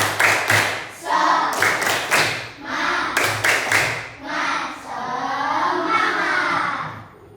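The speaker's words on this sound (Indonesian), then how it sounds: "Kita tepuk semangat dulu ya." A school class claps out a rhythmic group clapping chant together, sharp bursts of hands in patterned groups alternating with children's chanting voices, ending in a sustained shout.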